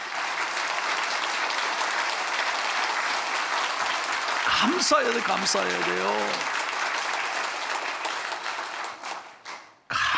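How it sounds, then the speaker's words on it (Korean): A church congregation claps in thanks, a dense, even roar of many hands that carries on for most of the stretch before tapering off, with a voice speaking over the middle of it. "우리 하나님 앞에 뜨겁게 우리 감사의 박수 한번 하겠습니다"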